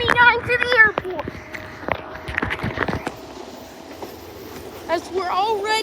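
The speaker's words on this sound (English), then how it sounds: "Train 429 to the airport." A SEPTA-style Silverliner commuter train bound for the airport rolls by with wheel rumble, rail clatter and faint squeal, while children and an adult talk loudly over it near the tracks.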